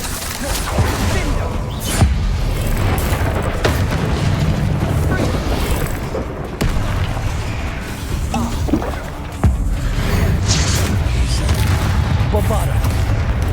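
Bombarda and Confringo spell explosions in Hogwarts Legacy make dense, loud booms and crashes that follow one another almost without pause, with several sharp blasts standing out, under game voices calling spell names.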